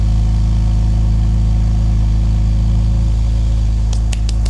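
A car engine idling with steering-wheel vibration, a loud, steady low rumble with a continuous even drone and a few faint clicks near the end.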